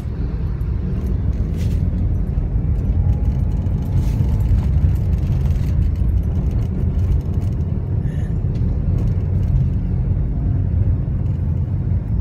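Busy road traffic with a line of queued jeepneys, a loud continuous engine rumble and idling drone close by, with passing vehicle noise and no talk.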